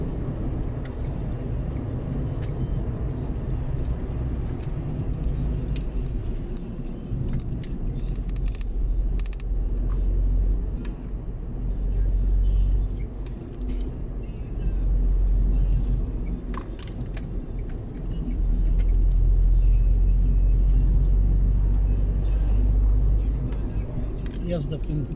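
Road traffic moves around the Magnice roundabout on the DK8 road near Kobierzyce and Wrocław, a steady car engine drone and rumble from inside a vehicle, swelling toward the end, with someone talking over it.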